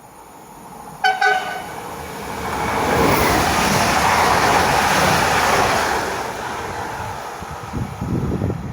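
A Łódź Agglomeration Railway Impuls train rolls over track switches with a rumbling, rattling clatter that swells and fades over several seconds, after a brief sharp clank near the start.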